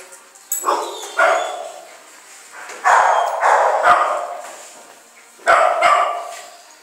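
A dog in a kennel, left stressed by separation, gives loud, sharp barks in short bursts spread across the clip, with quiet gaps between the groups of barks.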